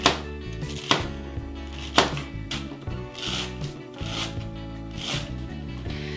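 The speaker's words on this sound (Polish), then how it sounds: "Będę ją kroić na takie drobne kawałeczki." A knife chops beetroot into small pieces on a cutting board, crisp knocks at an uneven pace with soft scraping in between.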